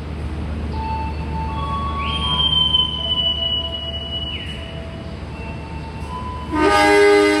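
The Bogowonto passenger train in Indonesia rumbles steadily along the rails with long screeching wheel squeals, and a loud horn blast near the end.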